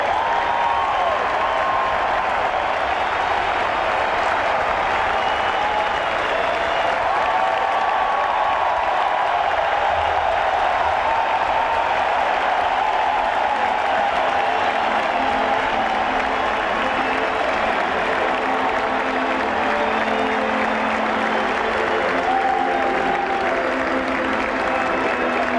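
A capacity crowd at Wrigley Field applauds at a baseball game between Boston and the Chicago Cubs, with steady, dense clapping and cheering that holds loud and continuous throughout.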